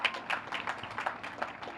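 Crowd applause with scattered cheering at an outdoor groundbreaking ceremony for a new senior center in Tallahassee, a steady burst of clapping from a moderately distant audience lasting a couple of seconds.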